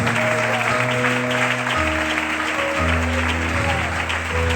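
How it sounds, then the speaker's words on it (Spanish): Applause rises from the congregation at a men's church meeting, a steady wash of clapping, loud and close, with sustained tones from keyboard or sound system running underneath. "Un aplauso para ellos."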